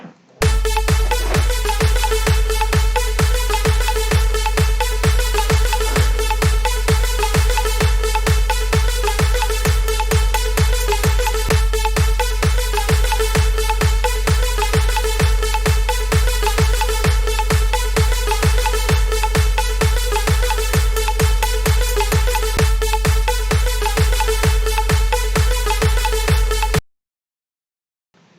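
A loud alarm tune from a trending song plays a catchy electronic melody over a steady thumping beat on an HMI panel, looping for almost half a minute before cutting off abruptly.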